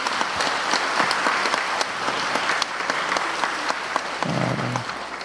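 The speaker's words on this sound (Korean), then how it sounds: "우리 자리에서 잠깐 일어서 주시면 우리 박수로 우리 격려하도록 하겠습니다." Church congregation applauding during a Sunday worship service, a sustained round of many hands clapping together, steady and fairly close for several seconds, with a brief low tone near the end.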